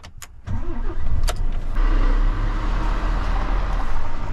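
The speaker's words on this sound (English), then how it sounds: "Let's get the truck out of here." Engine of a working truck pulling away, starting with a few clicks and knocks before the motor revs up into a loud, steady low rumble close to the microphone.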